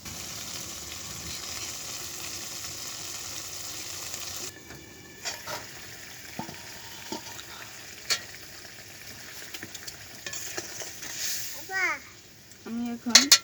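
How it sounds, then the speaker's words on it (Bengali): Koi fish fry in a pan with a soft continuous sizzle and occasional stirring clinks, under intermittent talk and a voice near the end. "আমি কই মাছ ভুনা করছি"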